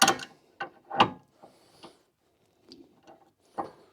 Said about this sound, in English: Using my trusty metric crescent wrench. Oh yeah, those are really tight, as they should be.